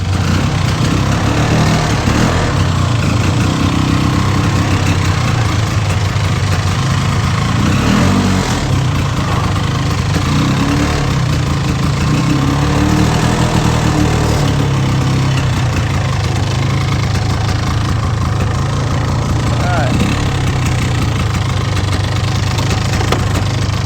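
A quad engine idles steadily while warming up beside a dirt track built for kids, a continuous near, loud low-pitched running drone with no talk throughout.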